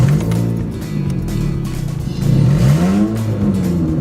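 A car engine revs with a deep, throaty rumble that sounds like a much bigger vehicle, swelling and dipping in pitch through several close, loud rises with no talking.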